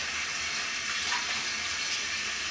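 Tap water runs steadily into a sink during hand washing, a continuous close hiss of flowing water with no talk over it.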